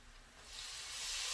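Beef meat added back to a hot pan while cooking Mongolian beef gives off a steady, bright sizzling hiss that swells slightly over a brief moment, with no talking.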